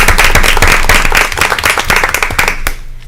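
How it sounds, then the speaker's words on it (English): Loud, dense applause with many hands clapping at once at a township board meeting, sustained for a few seconds before quickly fading out. "I definitely think that deserves a round of applause"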